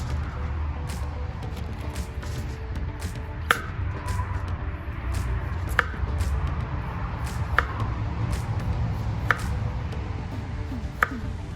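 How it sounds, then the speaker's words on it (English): A knife cuts washed, skin-on potatoes into wedges at an outdoor campsite, giving sharp, evenly spaced chops against a board over steady outdoor background noise, with no talking. "I find when you cut them in wedges, they cook a little bit better."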